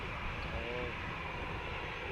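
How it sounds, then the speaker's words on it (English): A Southwest Airlines plane approaches Montego Bay airport in Jamaica, heard from the sea as a steady, loud engine roar with a rising whine that stays constant throughout. "Coming to the airport. Southwest 1042."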